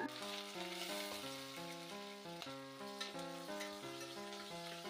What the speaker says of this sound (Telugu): బ్రౌన్ కలర్ ఆనియన్ వచ్చేంత వరకు వేగనివ్వాలి